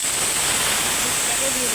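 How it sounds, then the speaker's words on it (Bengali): Panch phoron spices hitting hot oil in a pan, a steady, loud, dense sizzle and hiss that holds even throughout. "তেল গরম হয়ে গেছে। এখন দিয়ে দিচ্ছি 5 ফোড়ন।"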